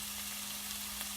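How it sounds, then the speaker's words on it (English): Green chili and curry leaves fry in a pan with a steady, faint hissing sizzle and a low background hum, brief and without talking. "Let this fry up"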